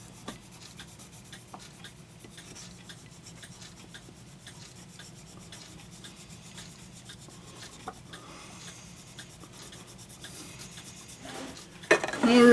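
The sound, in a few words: polishing stick rubbing on Regula repair part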